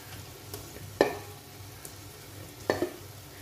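Onions frying in a pan as dried plums (aloo bukhara) are added and stirred in, with two sharp clanks of a spoon against the pan over a low, steady sizzle.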